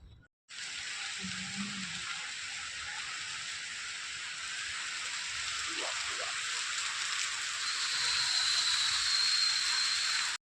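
Rain during a sudden storm in a village, a steady dense hiss of falling water lasting throughout and swelling slightly, with a faint voice briefly audible underneath.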